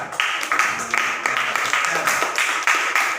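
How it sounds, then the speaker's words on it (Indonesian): A fourth-grade class claps for a pupil in rhythmic, evenly spaced bursts, the whole room clapping in unison at close range, with a faint voice underneath. "Tepuk tangan untuk Dika"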